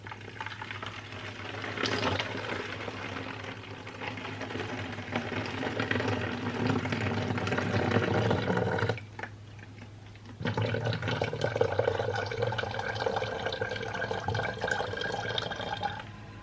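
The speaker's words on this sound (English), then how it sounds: "any water I've got left over, I'll just put back in my bowl" Leftover water from soap-making prep poured back into a bowl, a steady, close pouring and splashing wash lasting many seconds, pausing briefly before resuming.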